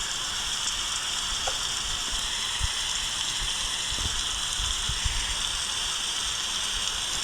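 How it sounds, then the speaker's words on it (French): Rain falling in a forest, a steady dense hiss of drops on leaves and ground with a few louder individual drips and taps scattered through, continuous and fairly close. "Oh là là, j'aime pas quand il pleut."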